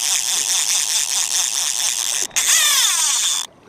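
A fly fishing reel screaming as line runs out from a hooked cutthroat trout, a high continuous whir that briefly cuts out and resumes before stopping abruptly.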